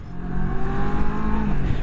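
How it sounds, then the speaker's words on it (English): A 650cc engine on a 2023 Moto Morini Seiemmezzo STR motorcycle revs briefly, a close, loud, rising and falling mechanical roar. "a little 650cc engine here"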